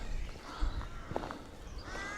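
Crows caw among trees along a breezy coastal footpath, a few rough calls over steady wind noise and faint footsteps, moderately distant.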